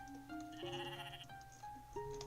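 Sheep bleat in Equilinox, a nature-building video game set in grassland, with a few short wavering calls over soft game music and no talking.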